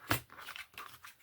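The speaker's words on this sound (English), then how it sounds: "let's go ahead and cut off these flaps" A cardboard box flap being cut off: one sharp tearing rip, then a run of softer crinkling, scraping cuts, close and fairly quiet, with no talk.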